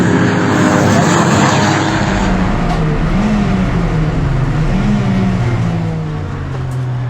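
Race cars on the circuit at Mettet, Belgium, with a Clio chasing another car, engines roaring loud and close, pitch rising and falling as they pass, steady and continuous throughout.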